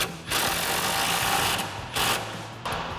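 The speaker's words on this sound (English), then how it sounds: "So now we'll tighten down our lower bolt," A 21mm socket tightens the lower bolt of a leveling kit on a 2020-2026 Silverado 2500, heard as three loud, close whirring tool bursts separated by short, quieter gaps. No one speaks.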